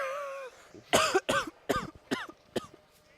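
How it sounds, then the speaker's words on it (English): A burst of five or six harsh coughs in quick succession, close and loud, after a brief moment of quiet. "Sorry for coughing."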